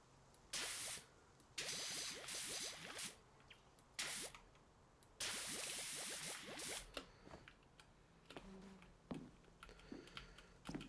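Short hissing bursts of metal cleaner sprayed in The Long Haul video game, some long and some brief, come in an uneven rhythm with quiet clicks and drips between them.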